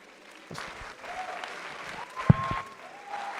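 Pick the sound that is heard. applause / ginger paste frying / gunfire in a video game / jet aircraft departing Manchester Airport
applause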